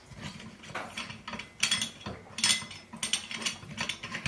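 Soft grinding, ratchety clicks as the bottom piece of a ceiling light globe is twisted loose, close and fairly quiet, in several short turning bursts.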